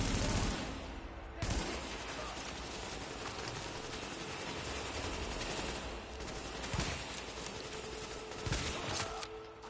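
Bursts of gunfire in The Division, with rapid volleys and single shots across the stretch under a steady game background, with brief talk from players.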